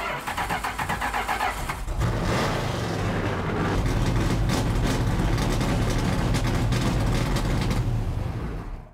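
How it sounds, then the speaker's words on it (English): A vintage NASCAR race car engine fires up and runs loud and rough, a throaty rumble with sharp crackling bursts, close by and continuous. "Race car's supposed to be noisy."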